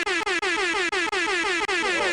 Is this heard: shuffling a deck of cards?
no